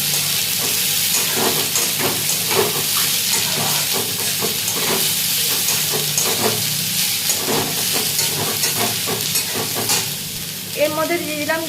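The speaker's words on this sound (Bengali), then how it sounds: "কেটে রাখা চাল কুমড়োর চোকলাগুলো দিয়ে দিলাম, দিয়ে আবার একটু নাড়াচাড়া করে নেবো।" Cut ash gourd peels frying in a pan as they are stirred, a continuous sizzling hiss broken by repeated spatula scrapes and clinks, close and fairly loud, with a brief tonal chirp near the end.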